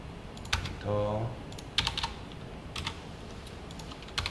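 Computer keyboard typing while writing web page code: scattered sharp key clicks, including a few louder separated presses like Enter, with a brief voiced tone near the start and short gaps of quiet between strokes.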